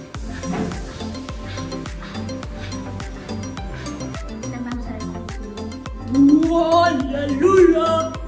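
A spoon stirs a melted, microwaved dessert mixture in a bowl with steady, rhythmic scraping and clinking, close and moderately loud, and a voice rises briefly near the end.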